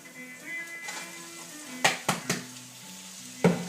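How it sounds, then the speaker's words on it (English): Halved cherry tomatoes gently stirred in a hot pan, a faint sizzle with a few sharp spoon-on-pan knocks and scrapes, close by, over a low background hum. "we're just going to very gently stir them because I don't want to break them"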